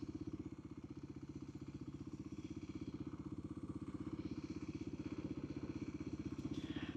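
Steady engine drone and pulsing exhaust of a motorcycle cruising toward the beach in Los Angeles, heard from the rider's seat with wind noise, continuous and even.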